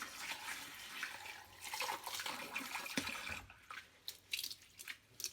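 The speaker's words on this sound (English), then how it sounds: "put a little bit of fresh water in there, mix it around with my hand" Close, continuous sloshing and swishing of water as brown rice is rinsed by hand, with rattling grains and brief splashes, growing choppier toward the end; no voices.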